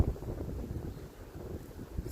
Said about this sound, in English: Even with the wind blowing